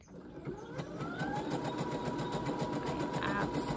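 Domestic sewing machine stitching steadily at close range, a rapid even mechanical patter with a rising motor whine as it speeds up, heard alone for a few seconds.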